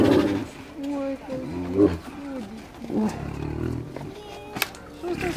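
A young Amur tigress in a Crimean park growls and rumbles in repeated low bursts, close and loud, while people talk over her.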